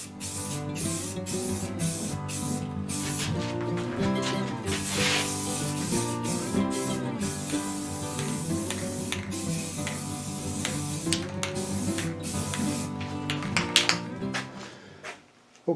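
A spray can lays a second coat of paint on the front of a steel wheel rim, with repeated hissing bursts, each separated by short pauses, close and fairly loud, with brief rattles and clicks between passes.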